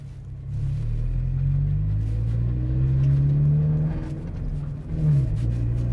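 A Toyota GT86 engine revs while driving, a loud, close, continuous drone rising and holding in pitch across several seconds, with a brief dip and a renewed climb near the end.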